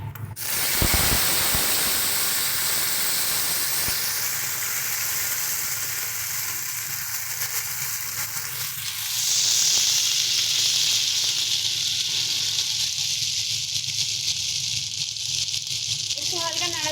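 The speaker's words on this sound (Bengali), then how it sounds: "চল তেল আমাদের গরম হয়ে গেছে, দিয়ে দিচ্ছি জিরে ফোড়ন।" Cumin seeds and pre-boiled taro root sizzle in hot oil in a home kitchen, a steady loud hiss and crackle that swells brighter partway through, with a voice talking over it.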